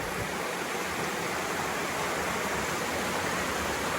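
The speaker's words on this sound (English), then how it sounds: "We really have some awesome rushing action underneath the bridge" A stream rushes beneath a bridge at an abandoned Appalachian farm in West Virginia, cascading over layered rock shelves as a steady, full hiss of water, close and continuous with no voices.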